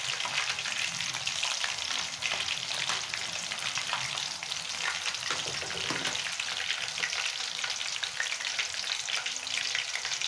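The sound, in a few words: chicken Manchurian pieces deep frying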